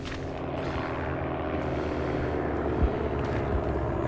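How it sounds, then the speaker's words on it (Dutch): A First World War support plane in the video game Tannenberg drones steadily overhead, its propeller engine a continuous low rumbling roar that stays loud and even throughout. "Oké, daar is het vliegtuig. Dat is ons support."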